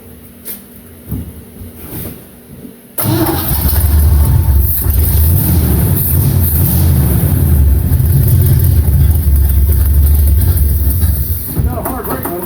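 An original 1969 Chevy C10 truck, parked for over 20 years, cranks and catches at about three seconds, then its engine settles into a loud, steady idle that runs on close by after a quiet stretch of shuffling.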